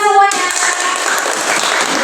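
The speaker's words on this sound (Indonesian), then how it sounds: "Oke, tepuk tangan semuanya." A group of students claps together in a classroom counseling session, a brief burst of steady, fairly loud hand clapping that follows a short spoken word.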